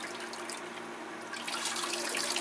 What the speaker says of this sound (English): we'll just give this a quick watering